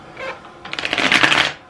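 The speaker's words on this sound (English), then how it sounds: "Then it said to shuffle, which is odd because I've never like shuffled this deck." A tarot card deck being shuffled up close, a brief soft riffle followed by a louder burst of rapid flapping card clicks, heard alone.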